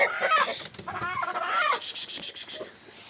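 An agitated hen in a crowded coop squawks loudly in a rapid series of harsh, rising cries, close to the listener and fairly continuous over a few seconds.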